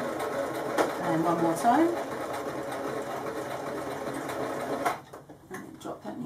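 A sewing machine stitches a fabric bookmark and back tacks, a steady close motor whir with brief stops. A voice talks over it, and the machine goes quiet near the end.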